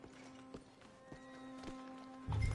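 Hooves clip-clop at a steady walking pace in the Red Dead Redemption 2 epilogue, fairly quiet under a low hum, with a louder rumble near the end.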